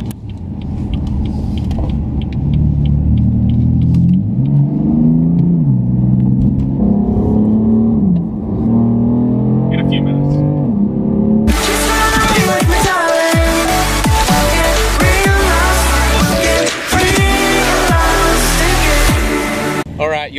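A new BMW M4 engine starts up and idles with a deep steady rumble, then erupts into loud, throaty revving for the last several seconds, close by, with people talking faintly.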